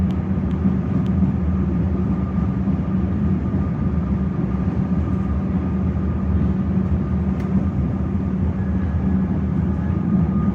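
Two trains run past one another in Melbourne, a steady loud rumble of wheels and engines that holds throughout, with a faint high whine drawn out over the low roar.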